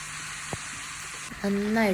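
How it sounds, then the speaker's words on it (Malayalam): Grated carrot sizzles in hot ghee in a pan for carrot halwa, after cashews and raisins were fried and lifted out; a steady soft frying hiss runs throughout, and a voice begins speaking over it near the end. "ആ ഗ്രേറ്റ് ചെയ്ത് വെച്ച ക്യാരറ്റ് അണ്ടിപ്പരിപ്പ് മുന്തിരിയും വറുത്ത് കോരി മാറ്റിയതിന് ശേഷം ആ നെയ്യിലോട്ട് ഇട്ടിട്ട് നന്നായിട്ട്"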